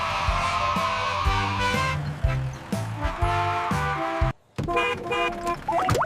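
A cartoon horn on a chocolate bus toots in a children's song, bright honking beeps over a bouncy musical backing, with a brief dropout near the end.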